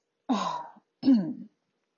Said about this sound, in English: He began by clearing his throat.